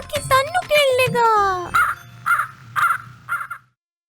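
Four clipped crow caws ring out in a steady run, following a sung line from a Telugu children's rhyme.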